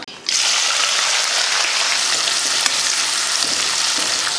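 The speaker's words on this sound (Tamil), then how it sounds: "எண்ணெய் காஞ்சதுமே கொஞ்சம் கடுகு சீரகம் சேர்த்துட்டு ஒரு பெரிய வெங்காயம், ஒரு 2 பச்சை மிளகாய், கொஞ்சம் கருவேப்பிலை சேர்த்துடலாம்" Onion, green chilies and curry leaves hitting hot oil with mustard seeds and cumin, a loud sudden sizzle that jumps up and stays strong and steady, with faint crackles and stirring.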